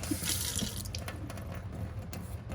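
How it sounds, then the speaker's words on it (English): A Delta faucet that won't shut off runs in a steady, close rush of water into the sink, unbroken from start to finish. "We're looking at a Delta faucet that won't shut off."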